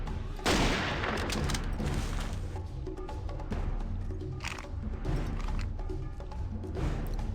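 Gunshots in Jurassic Park Hunter Legends: one loud, close blast opens, followed by scattered sharper reports and a steady rumble of in-game noise, with no one talking.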